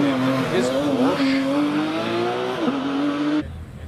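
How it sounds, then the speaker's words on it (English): A Porsche race car powers through the S-bends at the Prescott hill climb, its engine note loud and sustained with pitch rising and dipping through the bends, then cutting away abruptly near the end. "we're following Peter Turnbull through the S's in his Porsche"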